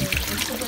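Water trickles steadily from an old mountain spring in the hills near Swat, a close continuous gurgling flow with no clear pauses.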